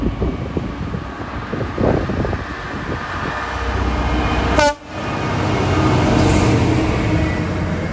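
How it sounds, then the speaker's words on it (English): A DB Cargo Class 66 freight train passes at Watford Junction on the West Coast Main Line, a loud close roar and wind buffeting, with a sudden brief gap and Doppler-like tonal sweep midway, no voices. "we now find ourselves at DB Cargo Midday Class 66 going from Forger's sidings to Euston Engineering sidings"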